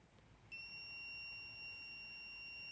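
A piercing electronic fire alarm buzzer driven by an Arduino Uno starts abruptly and keeps sounding as a steady high-pitched alarm tone, fairly quiet but continuous, with no voices.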